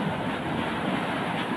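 A river at Puteri, Perak, rushes steadily in a broad, even wash of flowing water, close and continuous, with no talking.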